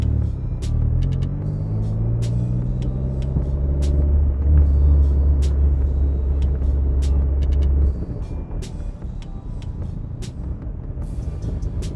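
Toyota MR2 with a swapped turbo 3SGTE engine pulling onto the road, a deep rumbling engine note that rises through the gears, then eases to a steadier drone with faint clicks and road noise.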